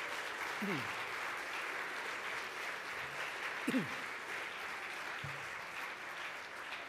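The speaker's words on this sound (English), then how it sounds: "A round of applause again for the Mayor, who will be leaving us in the next couple of moments." Steady audience applause fills a hall at an awards ceremony for hospital radio, sustained throughout with a few brief voice-like sounds rising above the clapping.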